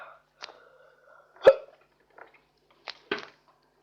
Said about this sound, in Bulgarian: ако чуете хълцани, но не спирам да хълцам